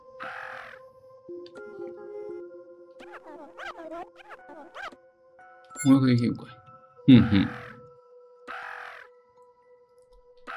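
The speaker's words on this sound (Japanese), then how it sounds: "でもそこに、明らかにカラスが いますね。" A crow caws repeatedly in an indie video game, with short harsh calls standing out against the game's steady tones and chimes, while a person talks briefly.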